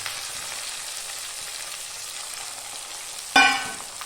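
Crushed shallots, garlic, ginger and green chillies fry in a pan with a steady, even sizzle, then a sharp louder hiss as something is stirred or added near the end.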